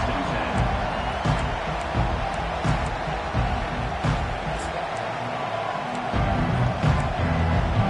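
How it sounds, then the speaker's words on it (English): A stadium crowd in a Madden football video game roars as a steady, dense wall of cheering noise throughout, with play-by-play commentary running over it. "This crowd bringing an ear-splitting welcome to their visitors."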